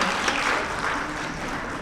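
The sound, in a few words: audience applause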